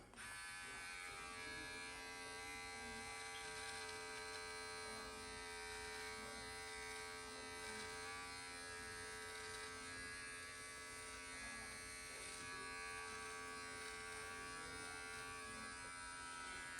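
Precision beard trimmer set to guard length 20 buzzing steadily and continuously through a beard, close and even, with no talking.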